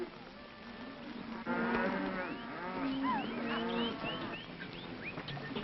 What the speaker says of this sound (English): Crowder, turn those cows.